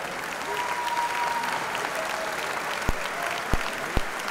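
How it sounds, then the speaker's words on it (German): Crowd applauding in the Stadttheater in Ingolstadt after a women's kickboxing bout, steady clapping throughout with a few sharper claps standing out near the end. "Und Beifall aus der Menge hier im Stadttheater in Ingolstadt für beide Kickboxerinnen."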